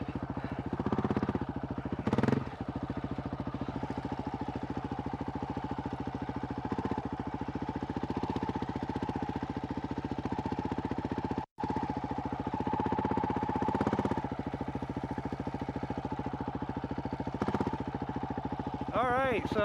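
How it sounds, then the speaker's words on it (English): A Honda CRF450RL dirt bike engine running as the throttle is eased on, a steady mid-pitched drone with smooth rises, heard under someone talking throughout. "You can see me easing the throttle on, and the power just comes out nice"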